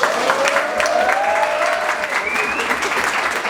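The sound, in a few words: audience applause for a new athlete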